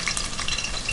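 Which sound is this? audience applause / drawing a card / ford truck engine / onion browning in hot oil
onion browning in hot oil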